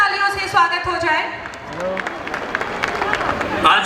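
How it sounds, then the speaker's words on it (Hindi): Audience applause at a Siliguri Maheshwari Samaj community gathering as a speaker is welcomed to the stage, crowd clapping swelling under a fading voice and continuing as a dense, steady patter. "एक जोरदार तालियों से स्वागत हो जाए।"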